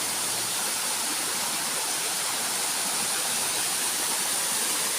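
Steady broadband rush of a waterfall on a hillside near Ban Huai Huat, Chan Phen subdistrict, running high after heavy rain, continuous and close with no voices.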